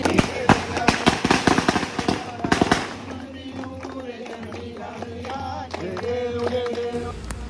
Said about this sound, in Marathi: इकडे आरती चालू आहे आणि मी आणि कौशल भाऊ तिकडे खटापटी करते फटाके वाजवायला